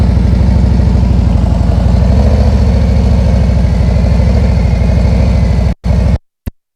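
Motorcycle rolling slowly at about 9 mph in the clutch friction zone, a loud, steady, close low engine throb that cuts out abruptly near the end.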